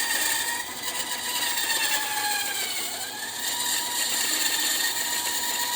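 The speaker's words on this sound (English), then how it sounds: "Remember the world's slowest bandsaw that I have?" An old, very slow bandsaw runs steadily with a continuous mechanical whine and hum, unchanging from start to finish with no voices.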